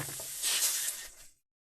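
An airbrush spraying paint through a 0.2 needle, a brief airy hiss that swells for about a second, then cuts off into silence.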